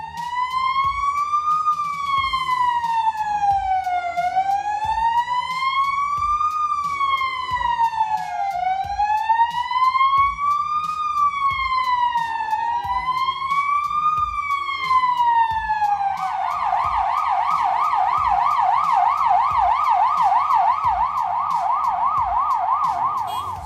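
An ambulance siren wails through traffic in Poland, a loud rising-and-falling tone repeating steadily before switching to a fast warbling yelp, heard up close over the low rumble of the street.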